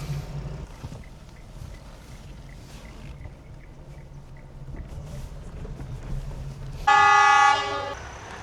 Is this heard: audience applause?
no